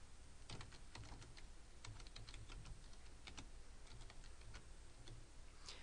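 Someone types on a computer keyboard, a quick irregular patter of soft key clicks in short bursts, close and fairly quiet, with no voices.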